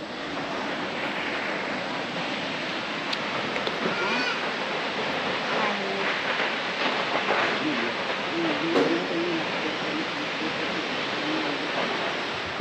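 A waterfall near Pakse, Laos, a constant broad rush of falling water heard from nearby, with people talking faintly over it.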